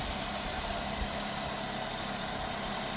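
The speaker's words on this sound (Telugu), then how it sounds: "సో ఇంజిన్ సౌండ్ అంటే చూడొచ్చు మీరు, చాలా ఎక్సలెంట్గా ఉంటుంది." A used Toyota Yaris petrol engine idles at close range, giving a steady, even hum with no talk over it.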